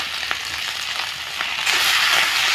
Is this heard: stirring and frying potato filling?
yes